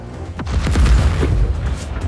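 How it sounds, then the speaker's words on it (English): Artillery cannons fire in the video game Just Cause 4, a loud, deep boom that swells into a heavy, rolling rumble lasting the full two seconds, with no voices. "getting blasted by these freaking artillery cannons"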